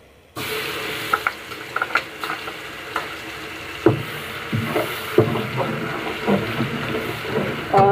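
Crushed garlic, two tablespoons, sizzling in hot ghee for aloo ki tahari, a steady close frying hiss punctuated by spoon stirring clicks and scrapes against the pan.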